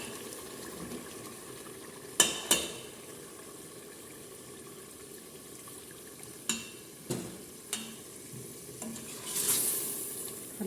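Beef frying in a pot for a stew, a steady broadband sizzle running throughout with several sharp utensil clinks and stirring scrapes scattered across it, a brief hiss swelling near the end; no talking.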